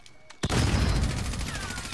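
Gunfire erupts in Call of Duty: Modern Warfare after a quiet moment; one loud shotgun-like blast is followed by a dense burst of rapid shots, close and harsh.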